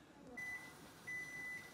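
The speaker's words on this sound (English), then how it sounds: "Whoop, there's the timer." A kitchen timer goes off during pickle canning with two short, thin electronic beeps close by, the second slightly longer, over faint background room noise.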